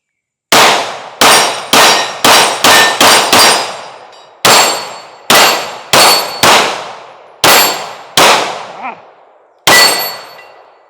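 A Sig P365 Fuse pistol fires about thirteen sharp, loud shots, the first several in quick succession, each followed by a ringing decay, with short gaps and a later cluster of spaced shots.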